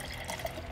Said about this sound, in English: Let's do an aggressive pour.